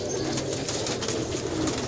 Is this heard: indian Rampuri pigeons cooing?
yes